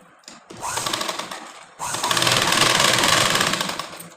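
A sewing machine stitches a blouse in two close bursts, a short run of rapid whirring clatter, a brief pause, then a longer steady run that fades slightly at the end.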